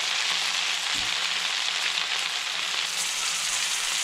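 Chicken cutlet frying in mutton fat, a steady close sizzle with a brief soft knock near the start, no voices.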